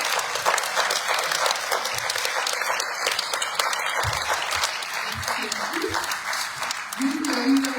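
An audience at a cultural centre season presentation applauds, with steady, moderately close clapping that runs throughout, some voices mixed in.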